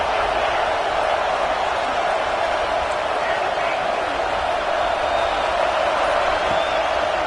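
A stadium crowd in a college football video game keeps up a sustained, broad roar of cheering. The noise holds at an even level throughout, like a dense wash of many voices.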